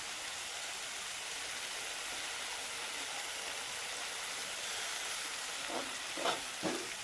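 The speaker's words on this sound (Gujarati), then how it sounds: "પાણી નાખી દઈએ પાછા." Water hits a hot pan of dhaba-style tempered rotlo in buttermilk and sets off a continuous, broad sizzle and bubbling, with a few brief stirring scrapes near the end.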